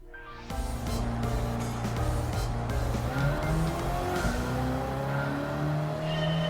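Race cars roar around the Blue Moon Bay road course in Gran Turismo 7, engines revving loudly up and down with tires squealing through the corners, close and continuous.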